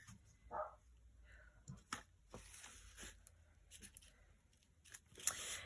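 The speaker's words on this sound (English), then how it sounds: "Listen to those dogs." Faint dogs bark somewhere in the distance, a few scattered barks amid close paper and card rustling at a quiet craft table.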